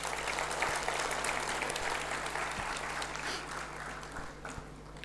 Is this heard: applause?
yes